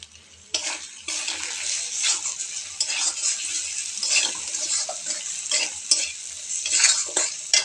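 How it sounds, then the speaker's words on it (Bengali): Shrimp curry seasoned with chilli powder and garam masala is stirred in a hot pan, producing a bright, busy sizzle with frequent scraping and clinking strokes of the spatula. "দিয়ে আমি ভালোভাবে নাড়িয়ে নেব"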